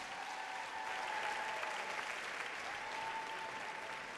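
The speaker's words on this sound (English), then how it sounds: "I think they deserve another round of applause," Steady applause from an audience at the Miss Gibraltar 2017 pageant, a dense, even wash of clapping that holds at moderate level for the full stretch with a faint sustained tone beneath it.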